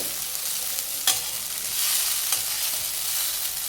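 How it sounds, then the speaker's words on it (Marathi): Kurdai vegetable dish gently stirred in a pan, a steady soft sizzle with light scraping strokes and a couple of sharper clinks, close and even throughout. "आता ते हळूवारपणे मिक्स करायची आहे."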